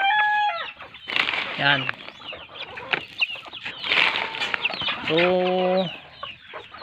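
Native chickens cluck and squawk busily nearby, with a couple of harmonic calls standing out over scattered brief speech.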